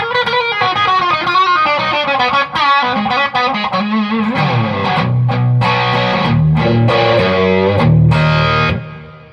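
Electric guitar on a humbucker pickup through the hot channel of an Egnater Tweaker 88 amp, giving a crunchy, distorted rhythm tone with strummed chords and single notes, loud and alone.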